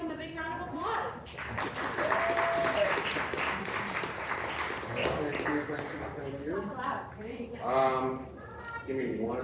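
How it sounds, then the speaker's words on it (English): Audience applause for a guest speaker at a meetup, a broad wash of clapping running through the whole stretch, steady and fairly loud, with voices talking over it near the start and end. "So please give him a big round of applause."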